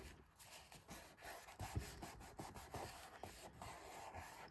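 Paper being rubbed down flat in an art journal, a soft, quiet dry scrubbing and brushing texture in short irregular strokes, close up and alone.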